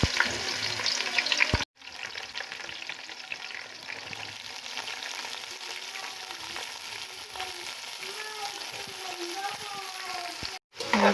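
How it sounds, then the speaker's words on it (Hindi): Onion and green onion frying in hot oil for an aloo matar pulao, a steady loud sizzle with stirring scrapes, broken by two brief cuts. "ऑयल गरम हो चुका है, अब शामिल करेंगे हम इसमें प्याज, हरा प्याज और नॉर्मल प्याज"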